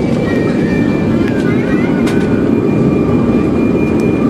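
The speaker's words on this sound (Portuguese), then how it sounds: "Vou mostrar para vocês o, a decolagem." A plane takes off from Orly airport in Paris, heard from close by as a loud, steady low roar with a thin engine whine on top and a voice faintly underneath.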